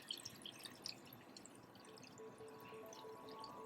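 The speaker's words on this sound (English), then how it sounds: "So now you can just pour out the stain solution" Stain solution for an SDS-PAGE gel, a Coomassie-type blue dye, poured out of a gel tray into a sink, giving faint, continuous trickling and dripping over a low background hum, with no talking.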